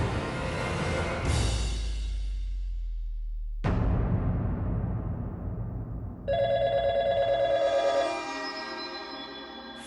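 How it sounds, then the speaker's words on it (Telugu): A telephone ringing in a home, a loud rapid electronic trill that stops abruptly and then starts again as a brighter, tonal ring in repeated bursts. "ఫోన్ రింగ్ అవుతుంది"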